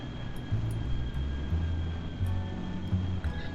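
An aircraft in Kerbal Space Program rolling down the runway for takeoff, a steady low engine drone with a faint high whine holding level throughout, no voices.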